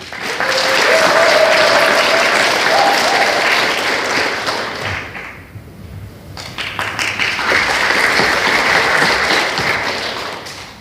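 An audience at a Busan civic forum on an independence movement memorial park and history hall applauds in a sustained burst, briefly thinning midway, then swelling again before tapering off.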